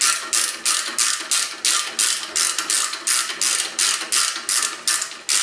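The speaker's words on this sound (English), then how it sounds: "Ratchet wrenches are amazing." A ratchet wrench clicks in a steady, rapid rhythm of about fifteen sharp strokes, close and loud, while working on a wheel bearing of a 2011-2016 Ford Explorer Sport front end.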